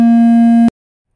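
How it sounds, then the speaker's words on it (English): A steady electronic phone call tone, a loud pure hum with faint overtones, sounds alone for about two-thirds of a second and then cuts off abruptly into silence. "Got interrupted by a phone call there."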